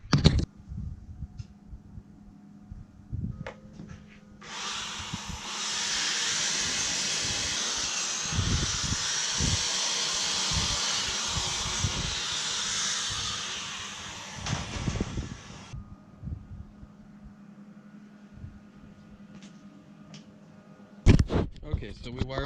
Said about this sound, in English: I'm gonna wire wheel it real quick